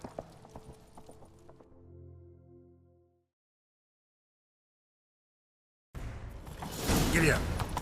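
Horse hooves in The Witcher 3 clatter at a gallop at first and fade out, then after a few seconds of silence a loud rush of motion returns with more hoofbeats.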